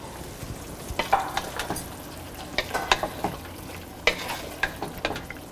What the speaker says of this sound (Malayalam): ഇതിലോട്ട് നമ്മൾ ഫ്രൈ ചെയ്ത് വെച്ചിരിക്കുന്ന ഡക്ക് ഇട്ട് കൊടുക്കുക.